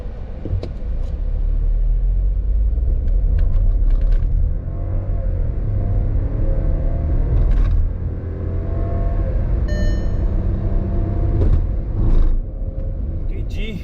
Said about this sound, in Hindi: तो एक बार 0 to 100 मैं करके दिखाता हूँ, ये देखो